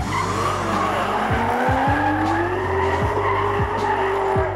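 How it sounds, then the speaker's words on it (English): V8-powered Mazda FC RX-7 drift cars howling through a drift section at a night drift event, with steady loud engine roar and repeated sharp tire squeals as they slide. "Andrew Redwood flying through the drift section"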